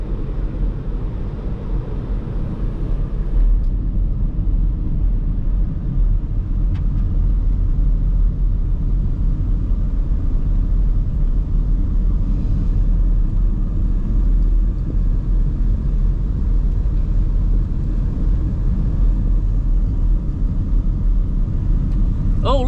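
A car rolls down a steep country road in the Brisbane Valley, a loud continuous low rumble of engine and tyres with strained braking noise throughout, no voices over it.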